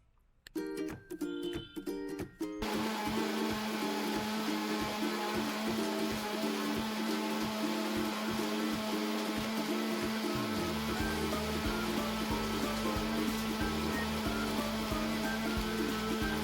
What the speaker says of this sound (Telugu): ఇవన్నీ థిక్ పేస్ట్లో గ్రైండ్ చేసుకోవాలి